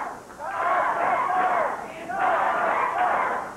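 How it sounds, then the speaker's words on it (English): Crowd at a 1982 Memphis professional wrestling match swells into two sustained roars of cheering for wrestler Dutch Mantell, loud and broad, with a brief dip between them. "Crowd getting in behind Dutch Mantell."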